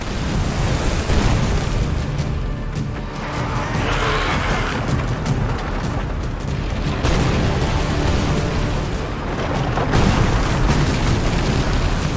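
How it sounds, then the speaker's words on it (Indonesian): Repeated deep booms of cannon fire, heavy rumbling blasts rolling one after another amid a dense, chaotic roar. "Ternyata itu adalah suara meriam yang ditembakkan"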